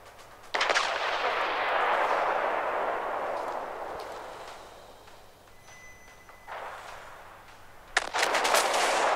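Naval artillery in World of Warships, heavy guns of the battleship Conqueror firing salvos: a loud boom opens a long rolling rumble that slowly fades, then another sharp blast of shots lands near the end.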